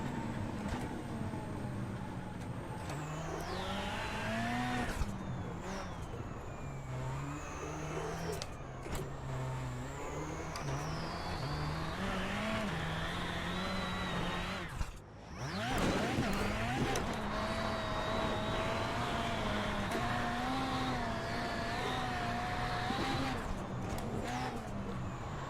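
Simulated VW Beetle rallycross car lapping Lucas Oil in iRacing, a loud continuous engine drone rising and falling through gear shifts, with one sharp dip midway, no talking.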